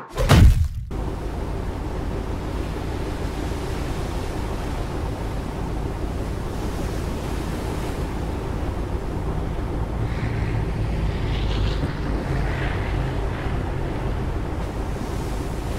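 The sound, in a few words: waves hitting rocks ambience from video game LEGO Batman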